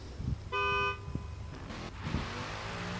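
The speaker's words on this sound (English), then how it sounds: "Honk when you're ready." A car horn gives one short, clear honk to signal the start of a drift qualifying run at a night drifting competition, with engine noise low behind it.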